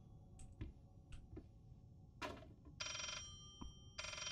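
A telephone rings in the horror video game Layers of Fear, giving two long electric bell bursts after scattered ticks and knocks, fairly quiet and without talk.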